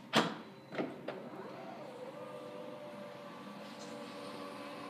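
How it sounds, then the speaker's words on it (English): The power liftgate on a 2015 GMC Yukon Denali 4WD starts with a few clunks, then a smooth electric motor whine rises and holds steady at moderate volume, with no talking. "power liftgate"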